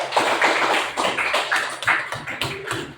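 A classroom of students claps for a classmate, a burst of quick, uneven hand claps close by that stutter and fade in irregular waves for a few seconds, with no voices over them.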